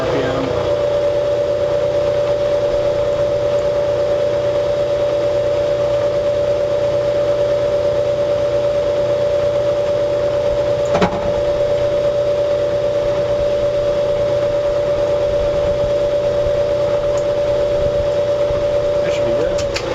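Machine tool running at about 700 RPM while machining a metal tripod mount, a steady close mechanical drone with a constant tonal whine throughout and one brief sharp tick partway through.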